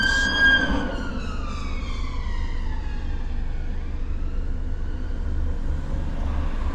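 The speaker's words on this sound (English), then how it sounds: "Oh, it's ambulance." Ambulance siren speeding past on the road, driving on the wrong side, its wailing tone falling in pitch as it goes by, heard over steady road and engine rumble from inside a vehicle.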